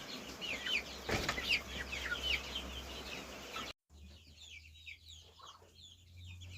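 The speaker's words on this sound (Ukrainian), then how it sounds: "Здається, це карликовий когут з моїх дорослих." A dwarf bantam rooster clucks at close range among busy chirping from other birds. The sound cuts out for a moment partway through, then quieter clucks and chirps continue.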